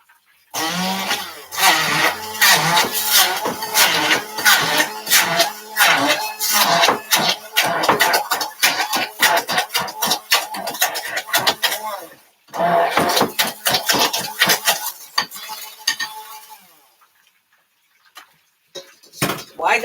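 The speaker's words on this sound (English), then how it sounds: "So I'm just going to mash this real quick" A ripe banana and boiled pumpkin are mashed with a kitchen gadget, giving quick rhythmic thumps and clicks for about twelve seconds, then a short pause and another burst before stopping.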